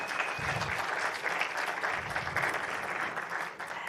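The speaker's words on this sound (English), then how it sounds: "Please can we welcome him with a huge round of applause." A room of workshop attendees applauds a panel moderator, with steady, moderately quiet clapping that runs unbroken for about four seconds.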